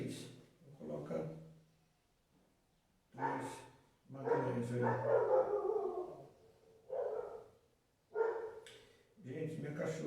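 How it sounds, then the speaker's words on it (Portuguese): A pet dog barks and howls indoors in several drawn-out bursts, moderately close, alternating with someone speaking Portuguese during a chemistry lesson. "minha cachorra está querendo fazer uma participação especial"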